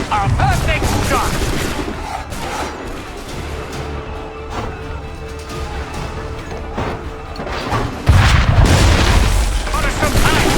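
Musket gunfire in Assassin's Creed III, a dense battle din of booming shots and crashes, with a heavy blast near the end and voices shouting over the fighting.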